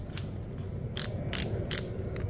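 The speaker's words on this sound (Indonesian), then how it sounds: "Lalu untuk torsi dan mode selektor, smooth sekali ya." Torque collar and mode selector on a Dongcheng cordless brushless impact drill being turned, producing a series of crisp ratcheting clicks in short bursts, close and clear with no talking.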